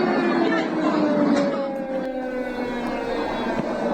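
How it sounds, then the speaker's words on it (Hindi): A long wailing air raid siren sounds from a distance in Ukraine, its tone sliding slowly, while people chatter faintly nearby. "हवाई हमले का अलर्ट जारी किया गया है, सायरन बजाए जा रहे हैं"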